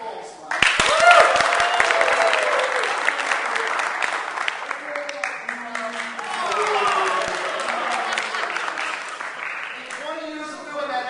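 An audience at a corporate talk breaks into loud, sustained applause with dense clapping, while a speaker's voice and scattered crowd reactions are heard under and after it.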